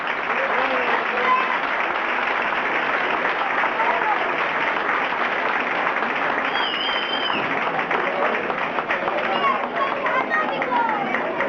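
Dense, sustained applause from a crowd at a 2011 tribute concert for a rock band, steady and enveloping throughout, with cheers and chatter mixed into the clapping.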